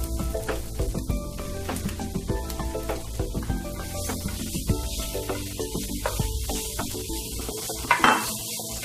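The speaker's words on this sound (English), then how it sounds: "Now in go my shrimp." Shrimp hitting a hot pan of onions and toasted cumin seeds, a steady loud sizzle and crackle running throughout with occasional scrapes and clinks of a utensil stirring against the pan.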